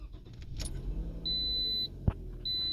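A Toyota RAV4 is switched off and restarted with the key, bringing keys jangling close by, a soft thump, and high electronic chime tones from the dashboard sounding twice, with a low engine hum underneath.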